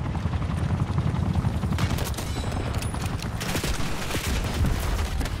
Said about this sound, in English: That stupid piece of shit attack helicopter.